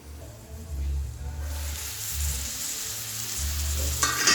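Chopped onions frying in a pan for curry leaf curry, giving a steady close sizzle and hiss that builds slightly louder toward the end, with occasional stirring scrapes and no talking.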